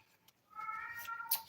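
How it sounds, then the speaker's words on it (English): A male cat lets out a short, faint meow in the background, a single rising-then-falling call of about a second, with a brief higher squeak at the end. "You might hear my really, really annoying male cat in the background"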